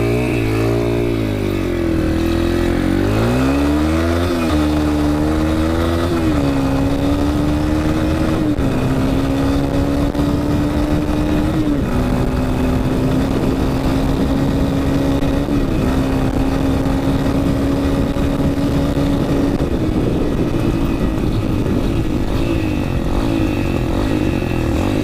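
Yamaha TTR 125 dirt bike, cold and unable to hold idle, its engine revving up unevenly and then droning steadily as it rides off across fields, loud and close throughout.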